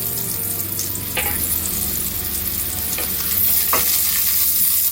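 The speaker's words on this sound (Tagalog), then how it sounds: "pour the onion into the wok and stir it for a while" Chopped onion stir-fried in hot oil in a wok over medium-high heat, giving a steady loud sizzle throughout with a few sharp stirring scrapes of the utensil against the metal pan.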